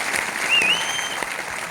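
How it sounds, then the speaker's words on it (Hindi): An audience at a meeting breaks into brief, dense applause, many hands clapping together loudly for under two seconds, with a faint whistle-like tone rising over it. "ताली वाली तो बजाते नहीं यार आप लोग"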